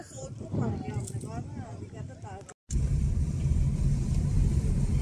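A car on a road in Taif, Saudi Arabia, rumbles past close by in a steady low engine roar, following a stretch of voices talking and a brief dropout.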